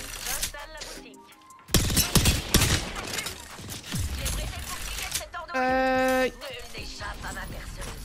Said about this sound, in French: Arrêtez de vous tirer dessus.